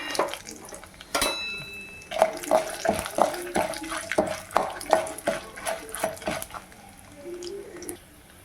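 Dried red chillies tipped into a hot pan and fried, with a clatter as they drop in, followed by rhythmic scraping and stirring sounds repeating steadily over a low background hiss.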